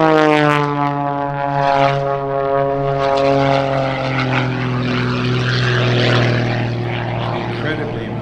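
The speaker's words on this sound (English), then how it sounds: "When he just kind of slides the airplane sideways like that." A single aerobatic propeller plane performing at a military air station airshow drones loudly and steadily overhead, its engine pitch sliding gradually lower as it passes, with a faint voice underneath.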